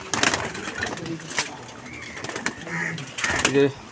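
Madras pigeons kept at a loft in Kolkata cooing in short bursts, fairly close, with a person talking over and between the calls.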